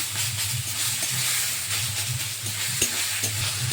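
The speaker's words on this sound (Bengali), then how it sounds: "তারপর সিদ্ধ করে রাখা শাকটা আবার দিয়ে দিতে হবে তেলের মধ্যে আর ভালো করে নাড়াচাড়া করে নিতে হবে" Boiled greens frying in mustard oil, a steady close sizzle and hiss with soft rhythmic stirring scrapes through the pan, no voices.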